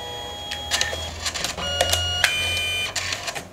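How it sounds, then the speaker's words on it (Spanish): A Canon Selphy CP1300 photo printer whirs and clicks as it prints, with a steady low motor hum broken by repeated short mechanical clicks and clatters, close and fairly quiet. "Mientras la impresora termina de imprimir."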